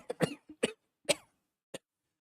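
A person imitates a harsh, sick cough with their voice during a tabletop role-play game: a close burst of several rough coughs, then a short pause and one final cough.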